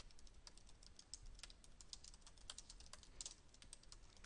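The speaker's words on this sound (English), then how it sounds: "just type that in" Quiet, rapid clicking of keys on a computer keyboard, a steady stream of light taps close to the microphone.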